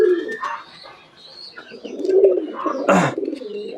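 Pet pigeons kept together in a small hobby farm coo in soft, repeated rolling calls close by, with a sharper burst of sound near the end.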